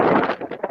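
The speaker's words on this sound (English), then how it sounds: "It's really windy." Strong wind gusting outdoors and buffeting the microphone, a loud broadband roar that surges and dips in quick pulses.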